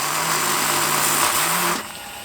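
A power drill spins steadily and loudly, boring a hole during an RC foam plane build, with its whining pitch wavering and dropping as it bites, then cutting off abruptly near the end.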